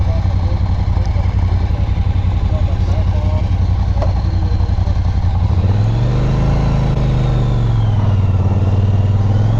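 A 2018 Triumph Bonneville Speedmaster engine runs steadily at close range, a low pulsing throb that rises in a short rev midway and then settles back, with a voice talking over it.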